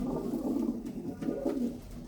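A pigeon coos in low, soft, rolling murmurs, repeated throughout at close range against a faint background.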